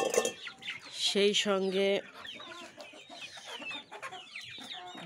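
Native hens and roosters kept on a rooftop cluck loudly and repeatedly close by, with a drawn-out squawk in the middle, while a person talks briefly.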